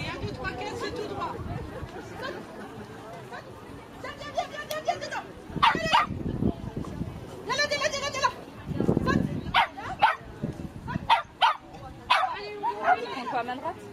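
A dog barks in short repeated yelps on a training walk outdoors, close and loud, mixed with people talking and giving commands.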